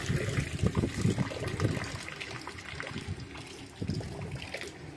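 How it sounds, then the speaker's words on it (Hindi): Water splashing and trickling as potatoes and vegetables are washed outdoors beside a river, a close, continuous burbling with irregular splashes and no talk. "जल्दी से सब्जी धो के"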